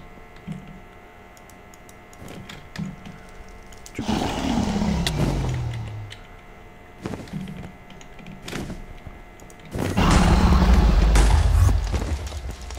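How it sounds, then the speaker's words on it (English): Explosions go off in the video game Technomancer, two loud booming bursts with deep rumbling decay several seconds apart, set against quieter clicking and ticking game sounds. "Why do you keep blowing up right next to me?"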